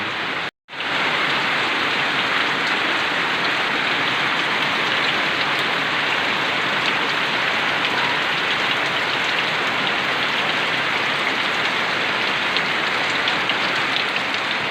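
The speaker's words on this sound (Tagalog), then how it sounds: "Dito sa amin, ang ulan." Steady heavy rain pours down with a dense, even hiss that never lets up, after a brief cut of silence at the very start.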